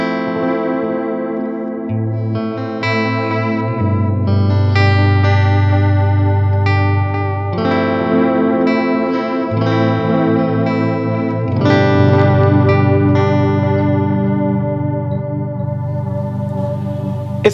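Electric guitar run through a TC Electronic Flashback X4 delay with modulation, playing a worship anthem melody with shimmering chorus-like echoes and sustained distorted tones over a steady low bass, alone and close.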